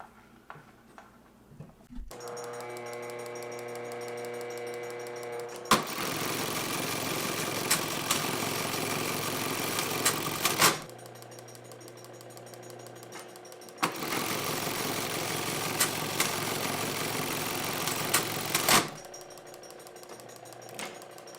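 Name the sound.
Singer Class 71 sewing machine stitching a buttonhole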